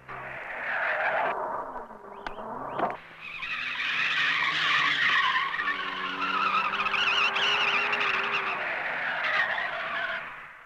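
A car turns and reverses with its tires skidding and squealing loudly. The screech is sustained and close for about ten seconds, with a brief dip partway through and no talking.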